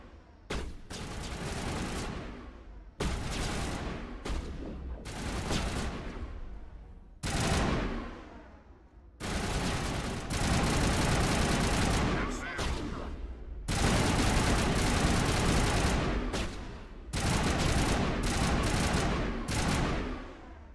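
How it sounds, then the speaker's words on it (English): Bursts of automatic gunfire from a Mass Effect firefight, rapid and loud, hammering against a wall in repeated volleys of a few seconds each with brief gaps between them. "They're shooting the wall."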